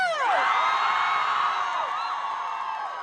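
A large crowd at an outdoor rally cheers and whoops loudly, a dense sustained roar of many voices that slowly fades.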